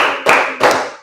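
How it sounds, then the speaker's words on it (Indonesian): Two sharp, close hand claps in a classroom, spaced evenly about a third of a second apart, each ringing out briefly in the room before fading. "Tepuk 1, tepuk 2, tepuk 3"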